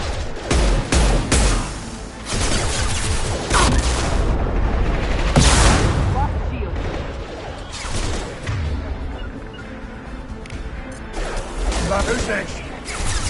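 Gunfire in the Mass Effect 2 game on PS5, loud irregular shots and booming impacts cracking out in bursts throughout, with crashes and in-game voices shouting between them.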